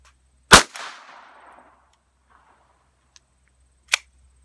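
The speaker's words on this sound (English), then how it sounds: "Green 21 grain hollow point bullets, pistol test" A pistol fires CCI 22LR Green 21 grain hollow point rounds, giving one sharp, loud report that rings off briefly, then a small click and a second crisp shot a few seconds later, with no talk.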